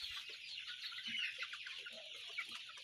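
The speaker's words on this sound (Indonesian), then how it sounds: "ayam yang kita tangkap tadi malam ini teman-teman" Arab chickens cluck and murmur faintly, continuously and at a distance during a harvest catch, with steady background hiss.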